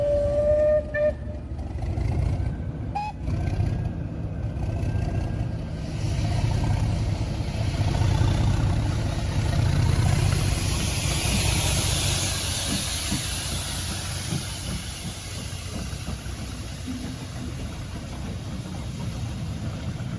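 A diesel locomotive tows a steam locomotive past on the rails, a steady low rumble and hiss with brief high whistle-like tones early on, holding loud throughout.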